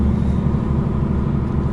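Lorry engine rumbles loud and close from inside the cab, a heavy steady low drone as the driver shifts up through the gears, with no talking.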